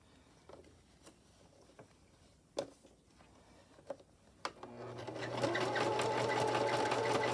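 A sewing machine stitches over thick side seams of a doll dress, a few slow clicks of hand cranking first, then a steady close motor hum with rapid needle rhythm.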